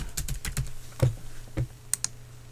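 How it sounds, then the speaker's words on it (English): Computer keyboard typing: a quick run of close, crisp key clicks in an uneven rhythm, with a couple of sharper taps near the end and no talk. "I type in fallen angel here"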